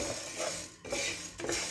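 Coriander seeds and black pepper dry-roasting in a pan for rasam masala, giving a steady close sizzle with light stirring scrapes and small clinks of a utensil, no talk.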